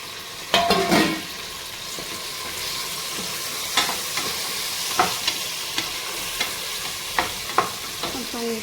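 Tomato and green chillies frying in hot oil in a pan while a Nellore fish curry is made, giving a steady sizzle with an early loud stir and scattered light scrapes and clinks of a spoon against the pan.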